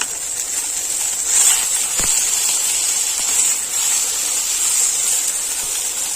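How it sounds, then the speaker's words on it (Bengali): Constant high sizzling hiss of fish frying in hot oil in a kadai, steady and close, with one brief knock partway through. "মাছ ভাজাও কিন্তু প্রায় হয়ে এসছে"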